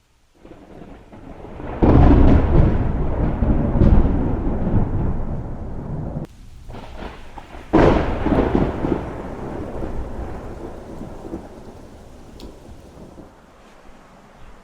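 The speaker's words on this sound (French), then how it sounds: "Il y a un sacré orage quand même." A heavy thunderstorm with rain, heard outdoors: loud rolling thunder crashes twice, separated by a few seconds, over a steady wash of rain and wind, with no talking.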